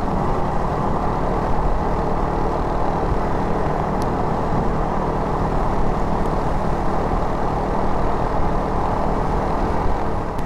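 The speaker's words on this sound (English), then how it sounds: "we're doing 80, and the bike is very happy pulling in this speed" Honda CRF300L motorcycle cruising at 80 in its highest gear, a steady, loud broadband drone of engine and wind noise with no pauses or speech.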